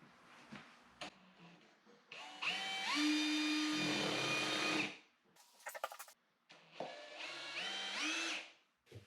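Power drill set to its highest RPM, rigged to act as a router cutting into wood, whining in short bursts that rise in pitch, stop, and start again, with clicks and pauses between runs.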